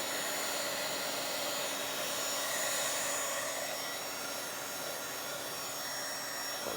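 A hair dryer blows steadily and loudly at close range over a damp journal page, a constant whooshing hum with a faint tonal whine throughout and no voices.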